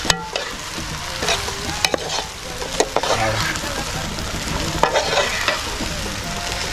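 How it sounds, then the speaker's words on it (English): Onions stirred and frying in hot oil for Senegalese yassa, a steady loud sizzle with repeated scraping strokes of a utensil against the pan, up close and without talk. "So we're going to stir fry this."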